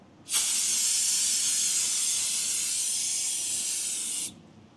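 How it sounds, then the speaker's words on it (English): Brake cleaner sprays from an aerosol can while work is done on a 2021 Ford Super Duty, making one loud, continuous hiss of about four seconds that starts and stops sharply, with no talk. "Brake clean. Clean it off."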